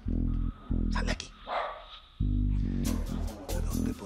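A dog barks repeatedly in loud, close bursts with short pauses in a TV drama scene, while a person talks between the barks.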